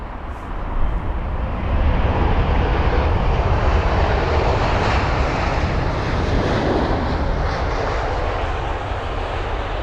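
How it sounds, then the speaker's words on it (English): An Emirates Airbus A380 arriving from Dubai lands at London Heathrow at sunset, a loud, steady, broadband jet engine roar that swells early and holds close and continuous throughout, with some wind noise on the microphone. "And that is the Emirates A380 from Dubai."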